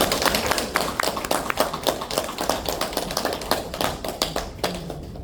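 Dense, steady applause from a lecture audience at a citizens' college welcoming a professor, many hands clapping fast and close for several seconds, slowly thinning toward the end with no talking over it.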